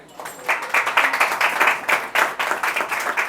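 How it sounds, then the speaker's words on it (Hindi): A church congregation at a faith service gives loud applause, with crisp, rapid clapping that swells in uneven waves for about three seconds. "जोरदार तालियां लें।"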